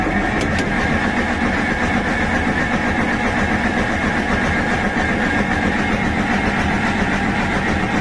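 Zetor 4011 tractor engine running while still cold, a loud, steady, close diesel rumble that idles evenly throughout with no voices.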